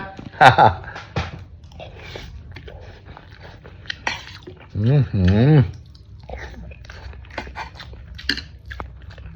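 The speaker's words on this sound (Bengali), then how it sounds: "পোলাও দিয়ে মেখে চামচ দিয়ে খাচ্ছি" Close chewing and spoon clinks while eating pulao with mutton, wet bites and mouth sounds in short bursts separated by pauses, with a voice speaking and humming between mouthfuls.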